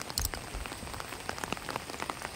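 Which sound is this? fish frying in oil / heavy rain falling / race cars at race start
heavy rain falling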